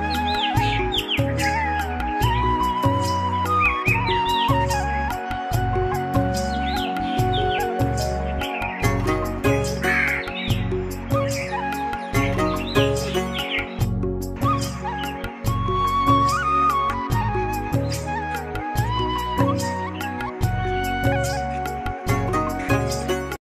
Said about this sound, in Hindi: देखिए आप कौवे की आवाज सुन रहे होंगे